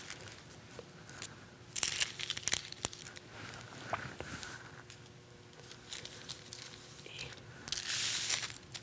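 A paper sewing pattern piece for a swing dress crinkles and rustles as it is handled and laid flat on fabric, in soft, close bursts of crumpling with quiet pauses between them.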